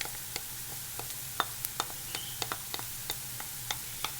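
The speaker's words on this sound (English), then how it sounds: "So we're going to saute the onions. And then to that, we're going to add garlic." Onions and garlic sauté in a pan, giving a steady close sizzle with a low hum underneath and scattered small pops and crackles, with no talk.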